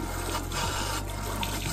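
Water runs steadily from a household tap during tooth brushing, a constant close hiss and splash with no speech over it.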